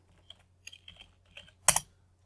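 Several light keystrokes on a computer keyboard are tapped out in an uneven rhythm, with a louder, sharper cluster of clicks near the end, all close and fairly quiet with no voices over them.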